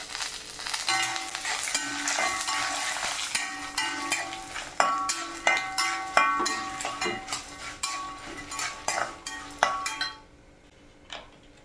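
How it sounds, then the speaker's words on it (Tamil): Tamarind rice spice mix roasts in a pan, with a steady sizzle of frying overlaid by repeated sharp metallic scrapes and clinks of a spoon against the pan, stopping near the end. "நல்லா வறுத்துக்கலாம்"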